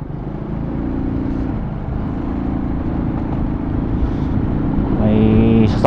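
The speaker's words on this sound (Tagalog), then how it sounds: "May sasakyan doon" A car passing on a road, heard as a steady engine hum and rumble under continuous road noise, with a higher tonal whine rising near the end as it draws closer.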